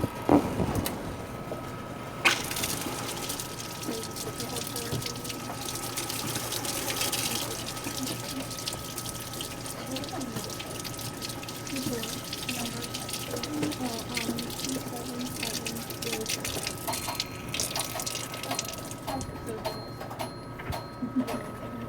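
Tap water runs steadily into a sink while something is rinsed under the stream, a continuous splashing hiss with a sharp knock near the start and faint voices in the background.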